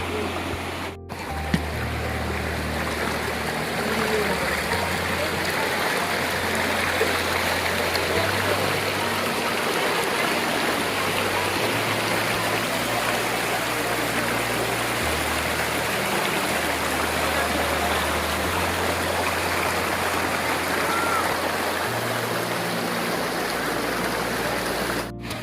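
Steady flowing stream water at a clear-water nature spot in Camarines Sur, a continuous broadband rush that holds at an even, fairly loud level throughout with no talk over it.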